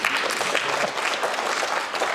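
A political audience applauds, dense and continuous clapping from many hands spread across the room, moderately loud and steady throughout.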